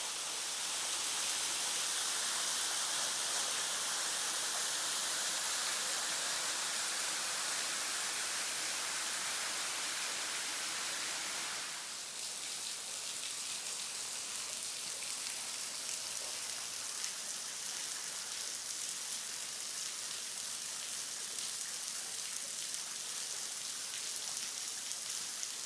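A waterfall near the parking lot on Borden Creek Trail in Alabama's Sipsey Wilderness pours steadily, a broad, even hiss of rushing water that shifts slightly in tone midway and continues without a break.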